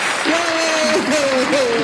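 A short burst of crowd applause plays as a sound effect, steady and fairly loud with a voice sounding over it.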